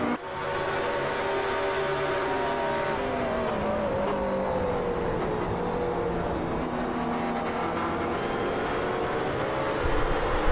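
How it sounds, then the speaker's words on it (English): LMP prototype race cars sweep past McLaren GT cars at Silverstone in a racing video game, a steady loud engine drone with shifting pitch throughout and a brief rise near the end. "as a couple LMPs make their way past"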